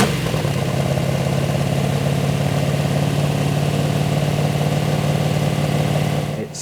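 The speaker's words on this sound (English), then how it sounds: "assembled the engine, and we broke the engine in." A 1956 Ford Customline gasser engine with a radical cam and punched-out heads runs steadily after break-in, a loud, close, throbbing idle that holds constant before dropping off at the very end.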